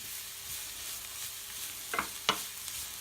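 Mushrooms and shrimp cut into small rounds sauté in a pan with a steady low sizzle, broken by two sharp utensil scrapes near the end as they are stirred; close, no talking.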